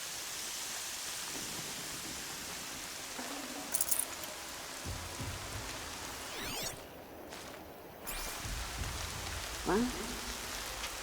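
Steady rain hisses down in Horizon Zero Dawn, a continuous even wash of falling water with a few brief in-game swishes and thuds layered on top.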